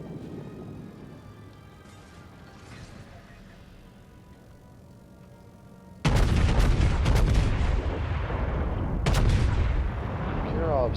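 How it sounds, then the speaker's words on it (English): Heavy battleship guns of the USS Texas boom in a naval battle in World of Warships, a quiet stretch giving way at about six seconds to loud, sustained cannon fire with a second blast near nine seconds, over a background voice. "I'm shooting at the absolute maximum of my range."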